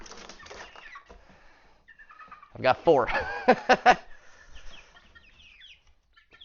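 Young chicks clucking and cheeping while being picked up and handled as they are moved to a new home, with sharp, loud squawks bunched in the middle between quieter peeps and a voice talking over them.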